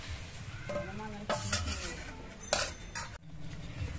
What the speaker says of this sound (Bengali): এবার কয়েকটা করে কোপ্তা আমি তেলের মধ্যে দিয়ে ভেজে নেব।